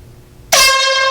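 A sudden, loud air horn blast cuts in after a quiet moment and holds steady to the end.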